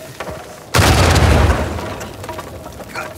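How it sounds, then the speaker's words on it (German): A loud, close boom in the Uncharted 4 video game bursts in suddenly and fades into a long rumbling tail with scattered debris crackle. "Da ist gerade was explodiert."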